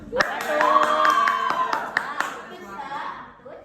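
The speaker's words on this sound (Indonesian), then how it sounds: "Rahasianya adalah tepuk anak soleh." Middle school children clap in a quick steady rhythm while chanting together in unison in a classroom, the claps sharp and close.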